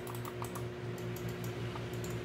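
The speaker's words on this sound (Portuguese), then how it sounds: "Os cliques dele também é da hora." Button clicks from a Razer DeathAdder Essential gaming mouse: several light, sharp, close clicks scattered irregularly over a steady low electrical hum, with no talk.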